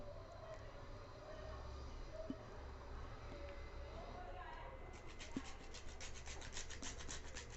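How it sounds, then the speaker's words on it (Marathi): Whole nutmeg rasped against a small grater for a dry-fruit laddu mixture, giving steady close scraping strokes that continue through the clip, with faint voices in the background. "थोडस जायफळ पण किसून घेऊ"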